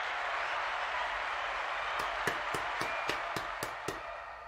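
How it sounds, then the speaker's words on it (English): Sparse applause for contest winners, about eight separate sharp claps spaced evenly in the second half after a quiet stretch of background hiss, faint and close with no talk. "Standing ovation to all of our winners."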